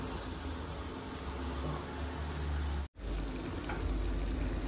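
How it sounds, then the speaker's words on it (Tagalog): A steady bubbling, sizzling simmer of Filipino adobo sauce in a pot, constant and close, broken by a brief cut of silence. "Ayan, kumukulo na mga kapatid."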